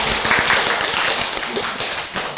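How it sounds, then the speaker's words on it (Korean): Dense applause from a church congregation, steady and close, many hands clapping together without any speech. "우리 박수 한번 해볼까요?"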